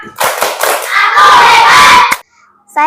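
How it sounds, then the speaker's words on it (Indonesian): A group of children shout the 'tepuk anak hebat' clapping chant together, loud rhythmic claps and voices at close range, ending abruptly after about two seconds. "Coba semuanya tepuk anak hebat"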